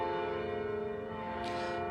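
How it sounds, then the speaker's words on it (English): Church bells of a basilica ringing steadily after a memorial Mass, their sustained overlapping tones filling the air at a moderate level without pause. "the bells are just now starting to wrap up for Sarah McCarthy."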